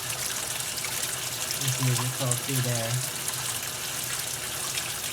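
Water pours into two Maytag washing machine tubs filling at once under low pressure, a steady rushing hiss beneath someone talking nearby.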